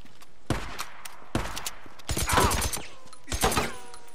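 Gunfire in the open-world game Days Gone, heard as scattered loud bursts of shots with short gaps between them and echoing tails, and a voice shouting briefly among them.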